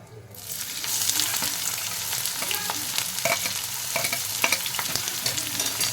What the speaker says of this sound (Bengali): পেঁয়াজটাও ভালো করে ভেজে নেব